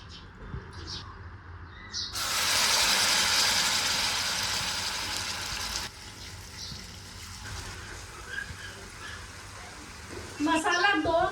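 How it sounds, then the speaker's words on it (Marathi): Ground masala paste roasting in hot oil for a soybean rassa curry, a steady broadband sizzle that starts abruptly and fills the middle of the clip, with faint kitchen clatter and bird-like chirps near the end. "तेलामध्ये वाटलेला मसाला आहे ना, तो चांगला भाजून घेऊया"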